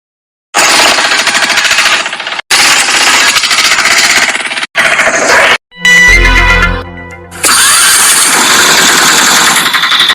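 Cartoon auto rickshaw engine chugging loudly in a rapid, jackhammer-like rattle, cut by brief gaps and a sputtering shift near the middle before the steady clatter resumes, with no talk over it.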